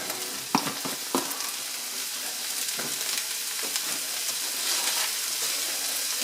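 Potatoes, onions and garlic fry in a pan with a steady close sizzle, broken by a few sharp clinks of stirring near the start and a brief louder crackle at the end.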